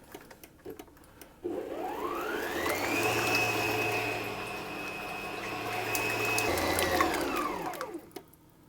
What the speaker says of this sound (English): I've got my paddle attachment for the time being, and I'm going to mix that to combine it